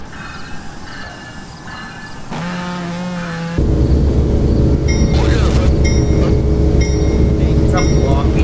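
A video game train rolls past during a role-play session, starting as a rising tonal whine, then a loud, close, continuous rumble with repeated horn-like tones layered on top until the end.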